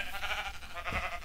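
Sheep bleating in the video game Minecraft, a few overlapping animal calls heard over a steady background hiss, with one brief louder bleat near the end of the short moment.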